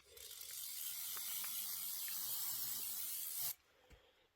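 Spray adhesive hissing steadily onto quilt batting inside a spray tent, one continuous close blast of about three and a half seconds that cuts off sharply, then a faint click.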